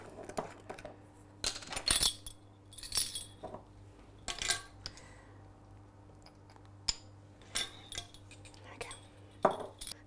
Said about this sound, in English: The poppy seeds are really well mixed in now.